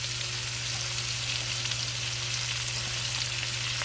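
Celery and leeks fry in a pan with a steady, dense sizzle that stays loud and even throughout, with no talking.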